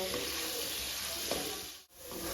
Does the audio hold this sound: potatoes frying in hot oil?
yes